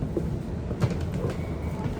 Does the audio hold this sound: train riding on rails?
yes